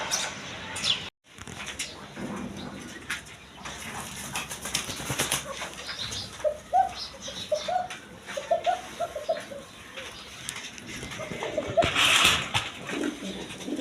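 Pigeons of several breeds in a breeding loft coo in repeated low rolling phrases, with wingbeats and shuffling around them and a dog-like yelp at one point; the birds sound close and fairly loud, with no talk.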